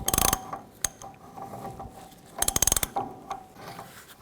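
A torque wrench ratchets while tightening a hub nut on a 1999-2007 Chevy Silverado 2500. Two quick bursts of rapid, close clicking are separated by scattered single ticks and light handling noise.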